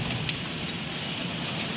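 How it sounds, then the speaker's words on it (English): Pouring rain during a hailstorm in Boiling Springs, South Carolina, a steady moderate hiss of downpour with one sharp tick of something striking a hard surface early on, and no voices. "Listen, that's hail."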